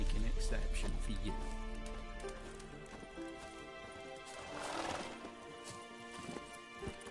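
Horse hooves clip-clop and a horse whinnies in The Witcher 3: Wild Hunt, loud at first and then fading, layered with game ambience and background music.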